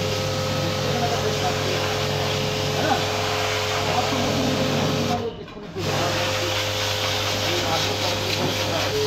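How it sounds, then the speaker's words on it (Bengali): A pressure washer running at about 130 PSI blasts a Royal Enfield Himalayan motorcycle tyre, a loud steady hissing spray with a constant pump drone that stops for a moment and then resumes. "এখান থেকে আমরা আমাদের প্রেসার ওয়াশার রয়েছে, আগে ওয়াশ করে নেবো"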